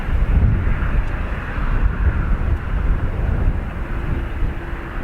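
Airliner taking off at Dublin Airport, a steady broad low roar with wind buffeting the microphone, loud and continuous throughout with no talk.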